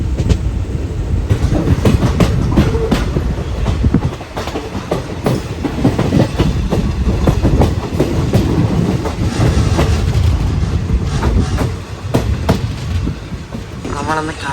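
Guruvayur passenger train locomotive pulling away on the Ernakulam–Guruvayur line, a loud steady rumble with clickety-clack wheel beats over the rails throughout.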